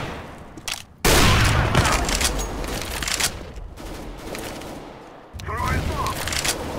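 Rapid bursts of gunfire in Counter-Strike: Global Offensive on the map Cache crackle and rattle loudly, with dense volleys and short pauses, under occasional talking.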